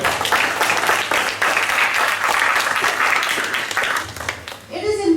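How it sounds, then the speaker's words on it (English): Loud, dense applause from a large crowd at a school parent orientation, steady for about four seconds before tapering off, with a few voices mixed in. "I think the school deserves a big round of applause."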